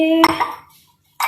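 A utensil stirs mushroom risotto in a metal pan, with a sharp close clink against the pan followed by a short scrape, a moment of quiet, and then another scraping clatter.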